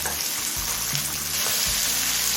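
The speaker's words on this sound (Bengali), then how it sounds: "লঙ্কার মটরশুঁটি দিয়ে আরও তিন চার মিনিট ভেজে নিয়েছি" Peas fry in a pan for pea pulao, giving a loud, continuous hiss and sizzle close up, with faint low rumbling and a couple of soft stirring knocks.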